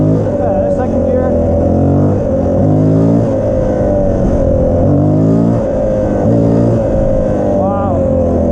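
A Honda XR400R motorcycle engine accelerating in second gear, loud and close, with repeated rising and falling revs over a steady droning roar and wind noise throughout.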